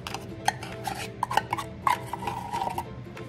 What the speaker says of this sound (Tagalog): Paghahalo-haloin lang natin sila lahat.